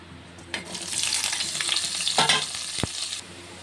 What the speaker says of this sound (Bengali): কড়াই তেল গরম হয়ে গেছে, 5 ফোড়ন দিয়ে দিয়েছি। এবার পেঁয়াজ দিয়ে দেবো।